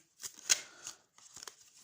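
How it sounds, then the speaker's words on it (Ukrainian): Tarot cards handled close up: a few soft flicks and slides of card stock, brief and quiet, with short pauses between. "Просто всі карти перевертаються."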